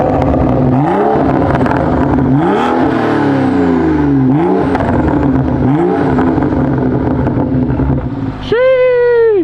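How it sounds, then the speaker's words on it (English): A BMW F30 335i with a VRSF catless downpipe exhaust blips through four short rising revs, then ends with one sharp, loud rev, captured close up on a neighborhood street. "let's hear some exhaust clips."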